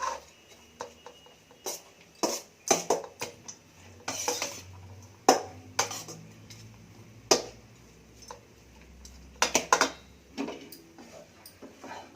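A spoon scrapes and clinks against a pan while vangi bath, a spiced eggplant rice, is mixed, giving irregular sharp metallic taps and scrapes at close range with short pauses between strokes.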